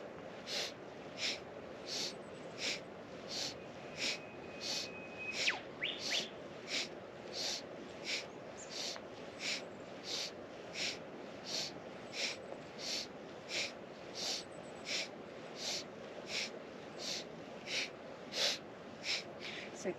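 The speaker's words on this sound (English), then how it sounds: "my breath is really strong sniffs in and out of the nostrils" Strong, rhythmic Kundalini breathing: forceful sniffing breaths in and out through the nostrils, repeating steadily about once per second for the whole stretch, close and breathy, with no talking.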